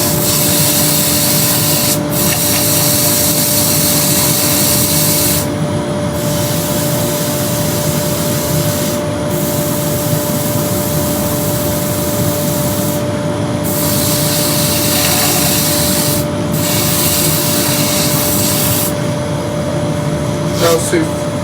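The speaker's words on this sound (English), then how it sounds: "I want to get rid of those now with the rotary sander" A loud, continuous whirring grind of a rotary sander on a wooden platter, running steadily with brief dips in the high hiss.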